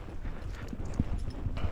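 Horse hooves clip-clop steadily at a walking pace while cattle are herded on horseback on a livestock farm, the irregular thuds close and moderately loud against outdoor background noise.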